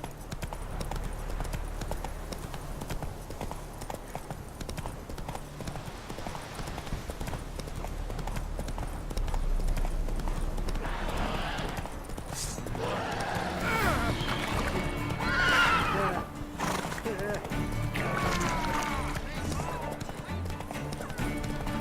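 Hoofbeats of Roach, a horse in the video game The Witcher 3, clip-clopping steadily throughout and building into a louder gallop in the second half, with game ambience and a possible whinny.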